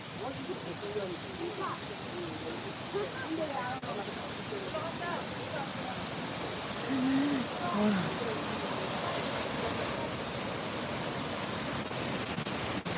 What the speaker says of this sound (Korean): 음. 물소리.